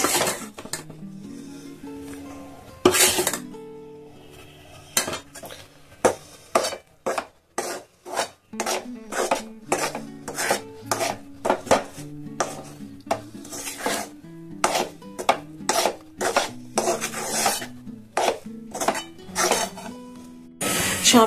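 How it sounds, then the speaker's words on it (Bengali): Rice flour being stirred into date palm jaggery for arsha, with repeated scraping and clinking of a spoon against a pot in a steady rhythm, close and fairly loud, no talking. "সব চালের গুঁড়ি দেখুন আমি মিশিয়ে নিয়েছি।"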